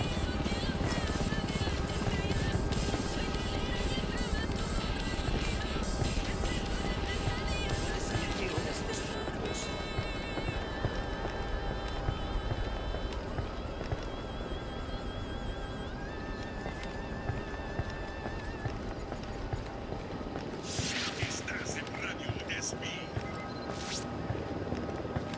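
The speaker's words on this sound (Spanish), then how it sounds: "Se acerca un helicóptero." Helicopter approaching in Ghost Recon Wildlands, set in the San Mateo area, a continuous dense rotor roar filling the whole clip at high level, with game voices and effects layered over it.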